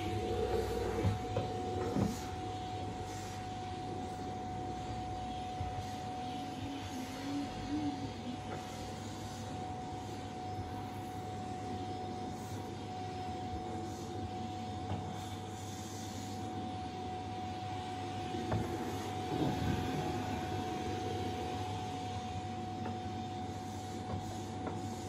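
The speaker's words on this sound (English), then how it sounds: "Now I need to move up the stairs with the Hoover on my hand." A household Hoover vacuum runs continuously at full power, an even, close motor roar with a steady tonal whine and a few brief surges as it is moved about, heard alone without voices.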